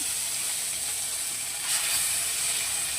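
Small turmeric-coated fish frying one by one in hot oil, a steady bright hiss that swells slightly partway through.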